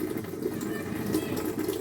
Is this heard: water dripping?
yes